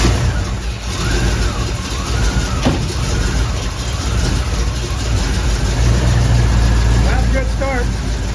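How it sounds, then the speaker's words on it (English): A Chevy 283 V8 with TBI injection runs after a misfire repair, with a loud, close, continuous rumble that rises and falls as it idles and revs, and someone talks over it. "So hopefully it's going to start too."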